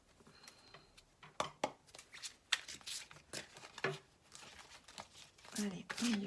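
Tarot cards are shuffled and handled for a reading, giving crisp riffling, flicking and crinkling bursts at an irregular rhythm, close and fairly faint.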